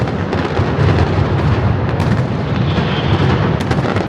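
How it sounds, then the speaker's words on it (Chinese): Fireworks burst over the Catalan town of Vic in a dense, continuous barrage, loud and close, with rumbling booms and crackling layered throughout and no pauses. "2点钟这个城市用盛大的烟火来欢迎我"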